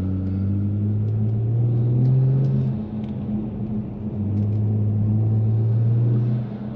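A car engine revs in paddle-shift manual mode, rising through two strong pulls of climbing pitch separated by a brief dip as the throttle lifts, a close, steady droning rumble.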